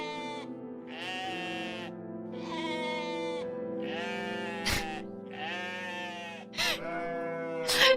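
Goat-like screaming sound from the video game OneShot, a run of loud, wavering bleating cries one after another, with a few sharp clicks in between and no talking.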